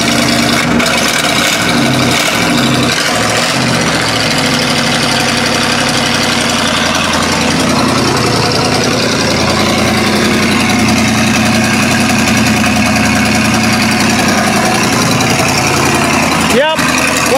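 An old junkyard Cadillac engine, still running on stale gas, idles roughly with a loud, continuous, uneven rumble close by.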